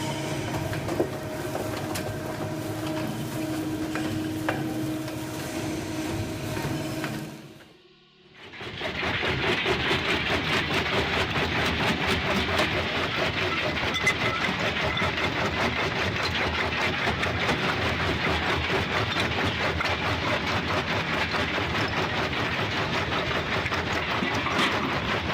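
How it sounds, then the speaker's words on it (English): A Brentwood AZ-15WL shredder with an 11 kW motor and 16 mm cutters runs with a steady mechanical drone. It cuts out briefly to near silence, then starts again as a loud, dense grinding roar that holds. "when the Brentwood AZ-15WL fires up, that 11 kilo motor growls like machinery from a factory floor"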